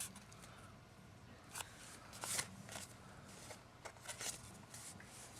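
Paper snips slice through card paper in several short, crisp cuts spread unevenly over a few seconds, close and fairly quiet, with no speech.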